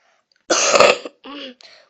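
A person clears their throat with a harsh cough-like burst, followed by two shorter throat-clearing rasps, close and loud against silence.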